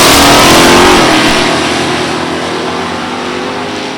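Two Pontiac Firebirds, a carbureted 1977 and a fuel-injected 1996, launch side by side at a drag strip in a loud, close roar of revving engines that fades as the cars pull away.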